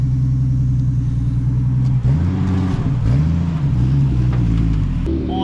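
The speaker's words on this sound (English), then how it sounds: "we straight piped the Honda only for a period of time because it's actually quite loud" A straight-piped Honda car engine runs loud and close, holding a steady low drone with two quick rev swells partway through, each rising and falling back to idle, with no talk.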